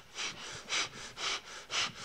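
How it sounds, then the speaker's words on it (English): Heavy, rhythmic breathing from a young girl character in the 2001 film The Others, four loud drawn breaths in steady succession, close up with no talk over them. "stop breathing like that"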